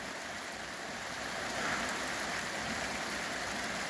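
Steady rain patters on and around a parked bike as the first rain of the year falls outdoors, a dense continuous hiss that swells slightly louder partway through, with no talking.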